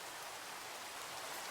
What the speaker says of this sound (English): And it's raining, nighttime.